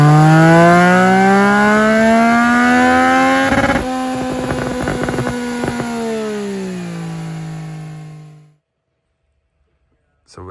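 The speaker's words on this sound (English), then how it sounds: "So now enjoy the sound of a screaming CP3 engine." A Yamaha R9 CP3 engine with an Akrapovic exhaust screams through high revs with a loud, rising exhaust howl, stutters briefly, then winds down and cuts off into silence.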